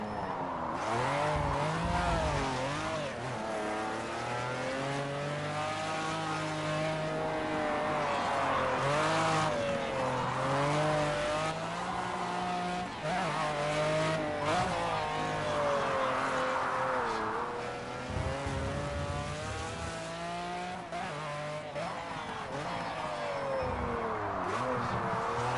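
An F1 race car laps Mazda Raceway Laguna Seca in a racing video game, its engine screaming and rising and falling through the gears, with tires squealing through the corners, loud and close throughout.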